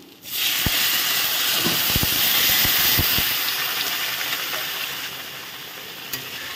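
Water poured into a hot frying pan of basanti polao bursts into a loud, sustained hissing sizzle that slowly eases over several seconds, with a few light clinks of a utensil early on.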